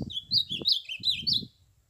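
Short, bright chirps trill repeatedly over low, soft coos, a turtle dove singing nearby in the woods for under two seconds.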